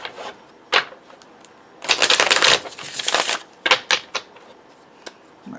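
Tarot cards being shuffled close up: crisp riffling bursts and scattered flicks and taps, with one longer dense run of rapid snapping cards.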